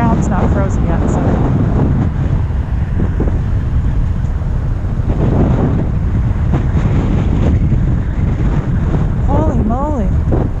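Strong, cold November wind buffeting the microphone outdoors, a loud, continuous low roar and rumble with gusty swells, a voice briefly heard under it.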